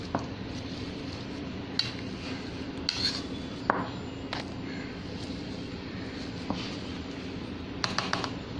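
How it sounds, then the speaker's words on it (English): Peeled potatoes being mashed in a bowl for aloo tikki, with soft squishy pressing and occasional clinks of utensil against the bowl over a steady background hum, no talking. "we have peeled the potatoes and we'll mash it"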